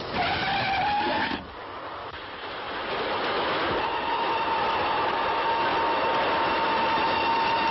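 A train rumbles past with a loud, steady roar and screeching metallic whine, wheels grinding on the rails throughout.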